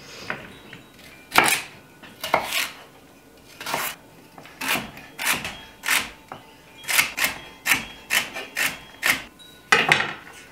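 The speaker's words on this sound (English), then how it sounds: "I have some celery here that we're going to cut" Celery is cut with a knife on a board in a run of crisp, sharp chops, uneven at first and then settling into a quicker steady rhythm, close and clear with no voices.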